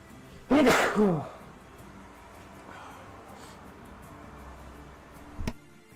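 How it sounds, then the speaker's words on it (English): A single loud, sharp sneeze bursts out near the start, followed by quiet room tone and a brief soft knock shortly before the end. "Sorry, I had to sneeze, guys."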